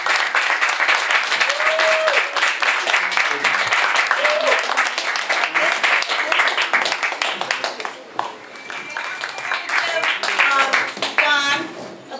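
Dense audience applause at an open mic night in a Goffstown Village venue, steady close clapping from a small crowd, with a few whoops, that thins out partway through before a brief swell and fade.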